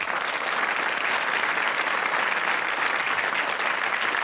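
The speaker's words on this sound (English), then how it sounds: "let's give a round of applause for the new contestants" Studio audience at a quiz show applauds new contestants, a steady, even wash of many clapping hands lasting about four seconds with no voices over it.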